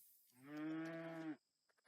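A cow-like animal in the Rimworld video game lets out a single drawn-out moo, loud and close, then falls quiet apart from a few faint clicks.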